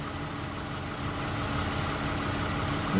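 Idling engine of a 2008 Toyota Highlander 4WD, a steady low rumble and hum held evenly throughout, close by with no speech.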